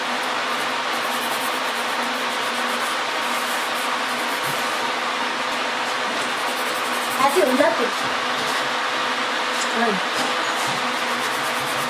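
A nail dust collector runs through filing of builder hard gel nails, a steady close whirring hum with brief scraping bursts, while someone talks over it.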